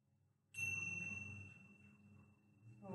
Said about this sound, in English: Awaken to the sound of the tincture bells.